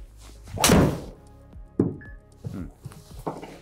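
A golf driver strikes the ball on a tee shot with one sharp, loud thwack near the start, followed by a few softer thuds and light handling noises.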